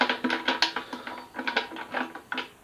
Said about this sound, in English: just undo the latch, unscrew it